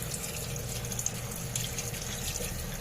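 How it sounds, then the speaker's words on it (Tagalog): Tap water pouring steadily over bitter gourd in a strainer, a constant close splashing rush with faint drips and no talking. "Basan lang natin ng tubig. Sinalin lang natin dito sa strainer."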